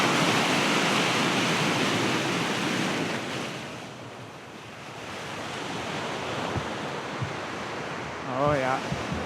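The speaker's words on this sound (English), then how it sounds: "see the ocean hitting the rocks, see the foam pulling back into the water" Ocean waves crash against coastal rocks in a loud, continuous roar of surf and foam, with some wind on the microphone. The roar swells and eases, and a voice briefly breaks in near the end.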